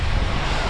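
Cold wind blusters against the microphone in steady, rumbling gusts during a rainy day in Riyadh, Saudi Arabia, loud and close with no pauses.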